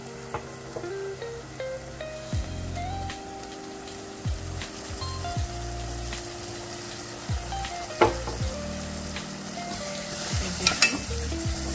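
Chopped tomatoes hit hot oil in a pan for an egg and dried shrimp curry, giving a loud, steady sizzle with stirring scrapes throughout, no voices.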